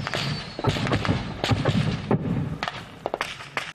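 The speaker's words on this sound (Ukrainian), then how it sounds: "Міни рясно прилітають до українських позицій." Mines exploding near Ukrainian front-line positions at night: a series of dull, irregular thuds and bursts, some sharper than others, over a constant rumbling background with no talk.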